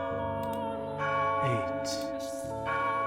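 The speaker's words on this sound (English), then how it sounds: "at noon, on the day of the festival, the church bell tolled" A church bell tolls at noon on a festival day in a video game, its strokes ringing steadily over a sustained, dense tonal background with bright bell partials swelling in a few moments.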